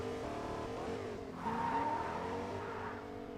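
A car in a Fortnite-like video game drives with a steady engine hum that swells and rises in pitch midway, with a tire squeal or skid, and no speech over it.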